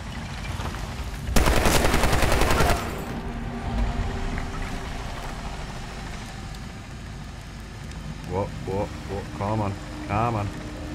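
A robot firing its gun in the Medal of Honor Warfighter video game, one loud rapid burst of about a second and a half, then quieter game ambience and a voice talking.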